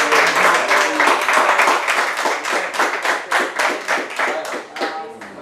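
Applause at a tribute to Edu Dracena at the Corinthians training ground: loud, dense clapping from a group that gradually thins into separate, distinct claps as it winds down.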